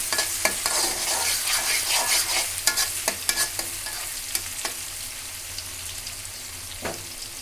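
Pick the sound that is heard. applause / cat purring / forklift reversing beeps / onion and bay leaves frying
onion and bay leaves frying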